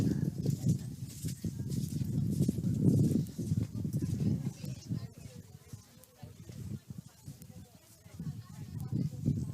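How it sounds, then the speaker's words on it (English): Hooves of horses pulling an Amish buggy clip-clop past near an equestrian speed show arena, soft rhythmic hoofbeats under outdoor background noise. "And we have an Amish buggy going by with more horses in the area."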